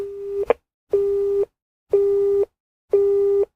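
A telephone busy tone heard after a line goes dead: a steady electronic beep repeating in evenly spaced half-second pulses with short silences between, loud and alone.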